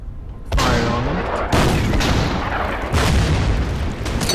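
Artillery fire in the Order of Battle: Winter War strategy game, several heavy booming blasts in sequence with rumbling tails, loud and close.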